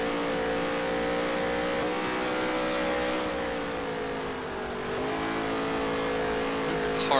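A race car engine in the NASCAR Heat 3 video game drones steadily through fast laps, with its pitch dipping and rising as the car accelerates. The sound stays close and loud throughout, with no talking over it.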